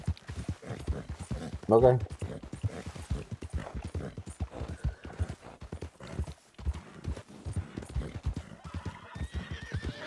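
In Red Dead Online, two horses clip-clop along at a steady trotting rhythm, with a clear whinny near the two-second mark, while someone talks over the hoofbeats.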